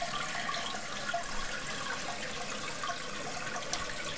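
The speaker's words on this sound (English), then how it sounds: "one water drop, which will give us a short flush, so that we can just flush away" A water-saving toilet on short flush rushes in a steady, hissing wash of water that runs evenly throughout at moderate level without pause.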